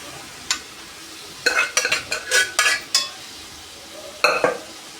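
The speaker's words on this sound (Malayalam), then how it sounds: "മൂത്ത് കഴിയുമ്പോൾ വേവിച്ച് ഇറച്ചി ഇതിലോട്ട് തട്ടിക്കൊടുക്കും" Cooked beef is tossed and stirred into browned masala in a frying pan for Kerala beef ularthiyathu: a few isolated spatula scrapes, then a quick cluster of metallic scrapes and clanks over a faint sizzle, all up close.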